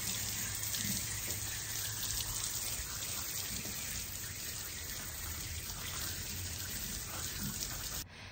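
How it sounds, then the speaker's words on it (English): Water poured onto the soil around a rose plant set in the ground, a steady soft splashing trickle that runs unbroken throughout, close up with no talking. "And then you're going to add water to it."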